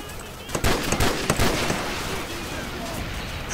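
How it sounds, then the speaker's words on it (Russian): Grenade explosion in Call of Duty Modern Warfare 2, a burst of sharp cracking blasts and rattling impacts in quick succession, then settling into a lower rumbling background. "Это была граната!"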